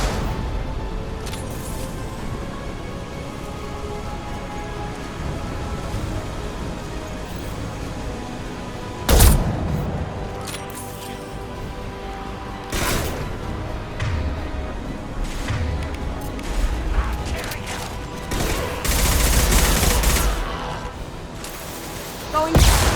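Impact shot gunfire from Mass Effect on Omega: loud, heavy booming shots and thumps burst out repeatedly over a dense, rumbling combat din, with several sharp, near blasts standing out.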